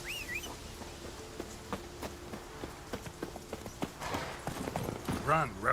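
Roach, the horse in The Witcher 3 video game, gallops with quick rhythmic hoofbeats against a faint outdoor backdrop, ending in a louder swell of clatter and game sounds.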